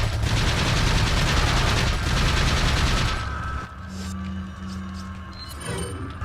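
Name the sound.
shotgun firing in video game Resident Evil 4 boss fight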